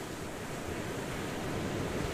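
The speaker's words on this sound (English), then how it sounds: "the waves are crashing on my sandcastle" Waves wash steadily onto a sandy beach, a continuous broadband surf hiss with no distinct breaks, moderately faint and heard without any voices.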